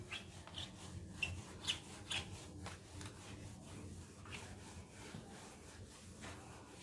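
Rubbing writing off a classroom board in a mathematics lesson produces a faint, continuous scratchy swishing with soft irregular strokes, heard alone with no talking.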